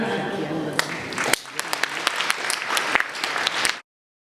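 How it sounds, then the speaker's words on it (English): Audience at a UN Day of Vesak event in Melbourne applauds, scattered claps rising into steady clapping with a voice underneath, ending abruptly after about four seconds. "Please give Esma another round of applause."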